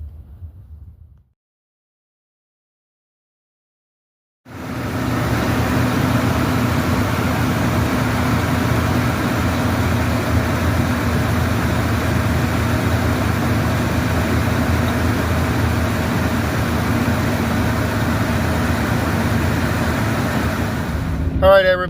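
A 1999 Ford F150 pickup truck heard from inside the cab while driving, a steady low engine drone and road rumble that starts after a few seconds of near silence and holds evenly throughout, with no talking.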